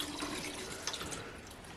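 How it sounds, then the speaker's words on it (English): Film developer liquid being poured into a developing tank during film processing, a continuous close splashing, gurgling pour lasting under two seconds. "So we'll pour the developer in,"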